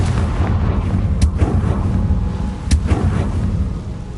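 Two sharp explosive blasts from a Confringo spell in a Hogwarts video game, each a sudden loud boom that rolls off into a rumbling tail, about a second and a half apart over steady game ambience.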